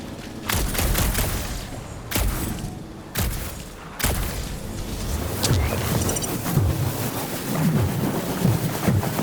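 Heavy rain pours steadily in a thunderstorm from Marvel's Guardians of the Galaxy game, with four sharp booming thunder cracks at regular intervals over the first half, then continuous rushing rain and rumble.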